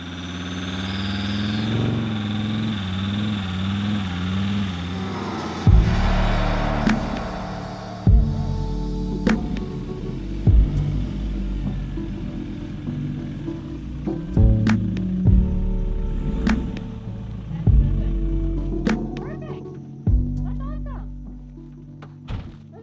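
A camper van drives out of a spot where it was stuck off-grid, its engine straining and droning while repeated heavy thunks and bangs break through at irregular intervals, with no talking.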